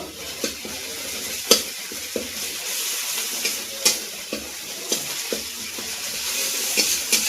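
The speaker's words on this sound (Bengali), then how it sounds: "দিয়ে দিচ্ছি এক চামচ কাশ্মীরি লঙ্কার গুঁড়ো আমাদের জন্য মশলাটা কষিয়ে নেব" Tomato and spices with Kashmiri chili powder fry in a pan, a steady soft sizzle broken by scattered clinks and scrapes of a spoon stirring, close and fairly quiet.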